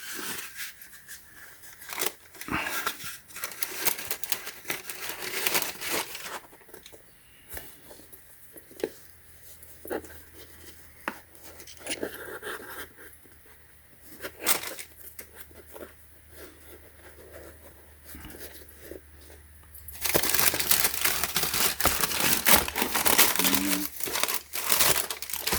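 Tissue paper crinkles and rustles up close while Nike Air Jordan 4 Retro GS sneakers are unboxed, with bursts of crumpling, light taps, and a louder sustained crinkle toward the end.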